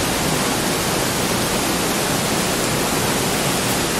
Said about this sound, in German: da ist auch ein wunderschöner Wasserfall